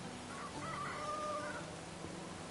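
Chickens clucking and a rooster crowing around a chicken coop in Medieval Dynasty, a brief, fairly faint farmyard call over steady background ambience.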